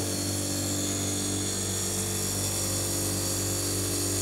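Two pumps running during Alfa Laval and Fullwood equipment service, a steady, loud mechanical hum with a constant droning pitch, running continuously without pause.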